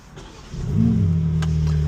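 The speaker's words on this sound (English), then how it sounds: "Some days this car just sounds different." A car engine idles quietly, then revs up sharply and holds a loud, steady growl close by.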